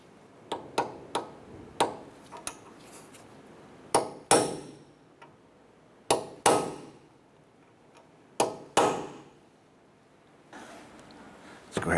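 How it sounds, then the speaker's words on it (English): A steel punch struck by a hammer to dimple the axle nut on a 2008-2012 Honda Accord driver-side CV axle: sharp metallic taps, some in quick pairs, then heavier ringing blows spaced a couple of seconds apart, close and loud in a quiet garage. "we're going to go ahead and use a punch, and we're going to dimple the axle nut"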